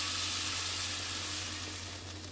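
Mushrooms fry with thyme in a pan, giving a steady, dense sizzle that stays loud and even throughout with no voices.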